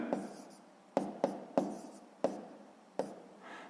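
Pen strokes on paper while working a sixth-grade fraction sum, a series of sharp scratchy taps and short scribbles, close and fairly quiet, with no talking.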